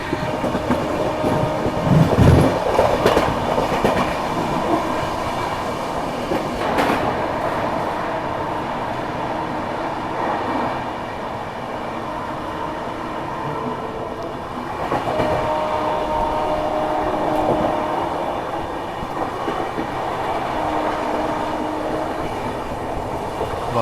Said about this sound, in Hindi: मिर्ज़ापुर को भी ट्रेन काफ़ी अच्छी रफ्तार में स्किप की